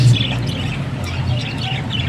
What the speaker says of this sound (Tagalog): Volk parakeet.